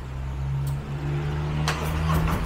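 A 2024 Harley-Davidson Road Glide fitted with a Fahrunn Performance exhaust idles with a deep, steady low rumble, then blips louder and rougher near the end, heard up close with no talking.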